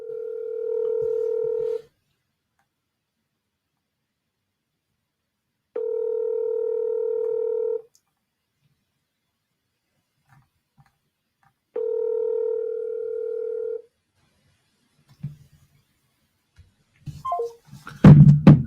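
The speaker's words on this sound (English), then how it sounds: "That's a cell phone that I called." A cell phone call rings back three times, each steady tone lasting about two seconds with long silent gaps between, clear and close, followed by faint clicks and a muffled pickup at the end.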